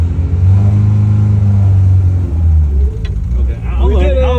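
A Nissan 370Z's engine rumbles loud and close as it is given plenty of gas, holding a deep low drone that dips and swells, with a person talking over the engine near the end.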